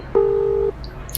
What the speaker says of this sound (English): You quickly pulled out your cell phone and called up the apartment company.